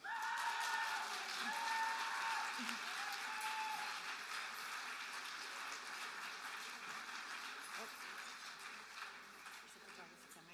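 Crowd applause at a college awards ceremony, a dense wash of clapping that is loudest at first and gradually tapers, with some voices and cheers mixed in.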